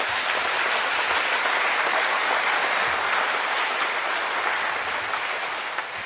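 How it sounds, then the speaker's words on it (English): A business gubernatorial Q&A audience in American Samoa applauds for the candidates, a dense, even wash of clapping that holds steady at full strength for about six seconds before easing slightly. "please applause for our candidates here"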